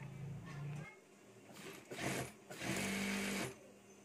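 A sewing machine stitches the edges of a knit fabric tank top, whirring in short runs that start and stop, close and fairly quiet, with a voice talking softly underneath.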